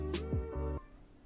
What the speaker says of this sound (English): That was my cat Tabby howling because she's in heat due to the reasons.